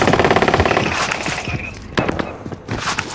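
Automatic gunfire in Call of Duty: Modern Warfare, a fast, loud rattling burst up front followed by scattered sharp single cracks and shorter bursts, with a brief lull near the end.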